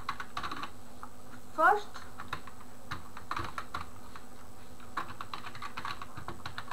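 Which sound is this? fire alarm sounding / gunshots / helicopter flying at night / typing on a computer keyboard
typing on a computer keyboard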